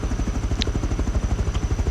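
Attack helicopter in the video game Rust, a steady, loud, rhythmic rotor thump with engine drone, continuous and close, with no other sounds over it.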